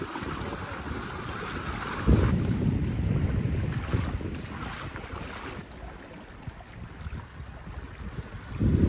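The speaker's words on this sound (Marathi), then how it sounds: "टेरिफिक करंट आहे पाण्याचा." Loud, constant rush of fast-moving sea water with heavy wind noise, a powerful churning roar that surges and eases slightly without pause.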